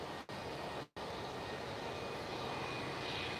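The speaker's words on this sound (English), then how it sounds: "Embraer E190, because it's a small one." An Embraer E190, a small regional jet, at Lisbon Airport on a cloudy, windy evening gives a steady, moderately distant engine roar with two brief dropouts early on. No voices are heard.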